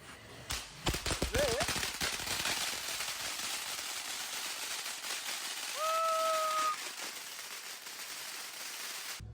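Diwali firecrackers set off nearby, a rapid burst of sharp cracks and pops early on, then crackling fizz, a brief whistling tone and lingering outdoor noise.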